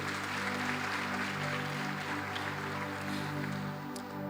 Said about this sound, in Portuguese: Quem pode aplaudir o Senhor pela sua palavra?